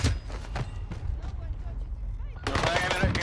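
Rapid Welgun fire in an online shooter game, bursts of close shots over game noise with a voice talking underneath.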